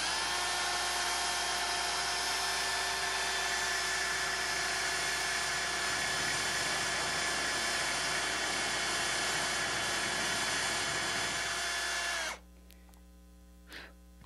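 A power drill bores steadily through a door to fit a peephole: a loud, continuous whining hum for about twelve seconds, then it cuts off abruptly, leaving only faint room tone.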